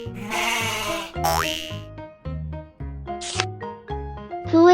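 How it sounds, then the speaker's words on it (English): Cartoon-style goat bleats ring out over a bouncy, tinkling children's farm-animal tune, with a springy boing and a camera-like click punctuating the melody. "Goats."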